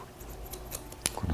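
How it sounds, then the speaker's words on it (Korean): Barber's scissors snip through short hair during a basic sports-style men's haircut, a few quick light metallic cuts close by against a soft background hiss. "잘라주고 잡아서 여기서 잘라주고 여기다 잡아놔가지고 잘라주고"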